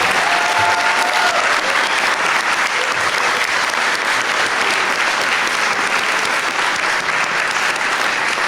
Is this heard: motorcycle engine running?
no